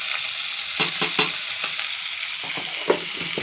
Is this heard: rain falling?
no